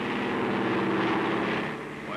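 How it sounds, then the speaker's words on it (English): Airplane flying overhead in an old Western setting, a drone of propeller engine noise with a droning tonal hum that fades slightly toward the end, heard faintly under background noise. "Why, it's a plane."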